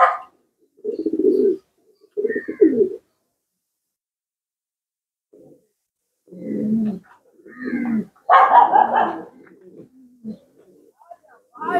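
Racing pigeons coo in a loft in several separate bursts of low, throaty calls, with short silent gaps between them and a louder, harsher call near the end.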